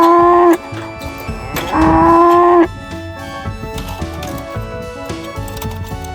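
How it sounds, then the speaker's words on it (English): Toy cow mooing, two loud electronic moo calls in quick succession, each about a second long, followed by quieter background noise with no talking. "This is a cow. Let's hear its sound."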